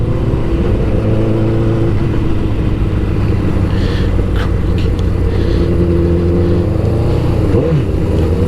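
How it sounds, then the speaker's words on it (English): Motorcycle engine on a Memorial Day group ride, throttle cracked so the revs climb and fall over a steady running drone, loud and close with no talking over it. "Give a little crack of the throttle."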